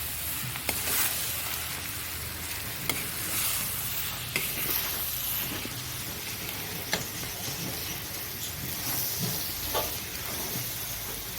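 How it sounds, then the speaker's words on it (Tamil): Mutton keema with pepper powder being stirred in a pan, a continuous sizzle and hiss with scattered scraping and tapping of the spoon, close and steady with no talking. "பெப்பர் போட்டுட்டு இதை மிக்ஸ் பண்ணிடலாம்."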